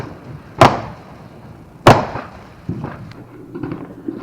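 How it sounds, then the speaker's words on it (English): Independence Day fireworks in Everett, Washington give two sharp, loud bangs about a second apart. Softer distant pops and rumbles follow. "What do you think of all the loud bangs and booms?"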